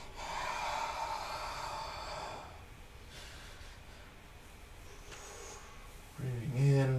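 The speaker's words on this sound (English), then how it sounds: "breathing out." A long audible exhale during a yoga session, a breathy rush lasting about two seconds, then quieter breathing, with a voice speaking at the end.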